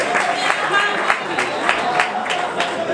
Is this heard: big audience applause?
yes